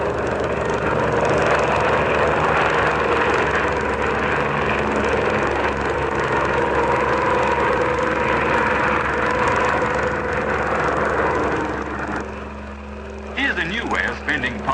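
An old propeller aeroplane flies aerobatics upside down over open countryside, its engine holding a steady, rough drone for most of the stretch before easing off near the end, where a voice briefly speaks.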